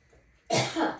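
A single sharp, harsh cough bursts out after a quiet moment, loud and close.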